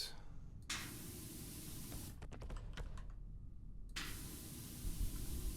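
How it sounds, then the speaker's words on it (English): A pressure washer in the game PowerWash Simulator sprays as a steady hiss of white noise, broken by brief gaps and a cluster of keyboard clicks partway through. No one speaks. "Just do a quick spray on top"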